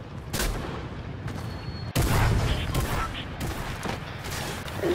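Rapid bursts of Fortnite shotgun fire crackle and pop continuously, with a sharp louder volley near the two-second mark, under faint background voices.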